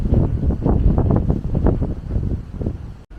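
Strong wind gusts buffet the microphone in a quiet hilltop park, a loud, continuous low rumble with irregular surges and no voices.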